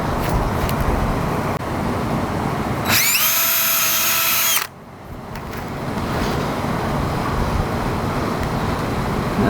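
A power screwdriver drives a screw into a homemade venturi tube rig in one loud, whining burst of under two seconds that cuts off sharply, with steady background noise before and after.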